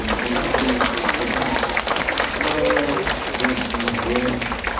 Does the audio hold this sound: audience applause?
yes